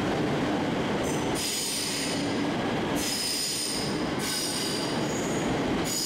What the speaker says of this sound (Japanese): あの電車は今原の町に向けて長い編成を組んで走っていきます